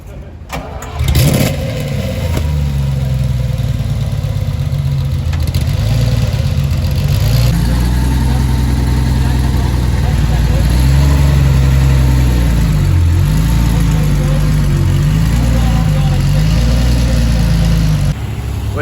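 An engine starts with a burst, then a convoy of luxury cars, including a Maybach and a Range Rover, idle and rev steadily nearby in Paris for a long stretch, with people talking underneath.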